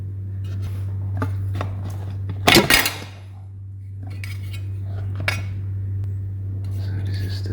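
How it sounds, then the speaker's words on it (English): A metal heater fan being taken off and handled, with light metallic clinks and taps, one sharp louder clatter near the middle, over a steady low hum. "So the first step, I will remove this fan."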